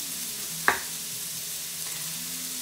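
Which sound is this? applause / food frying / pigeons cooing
food frying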